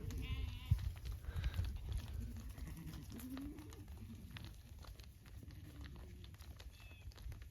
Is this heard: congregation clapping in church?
no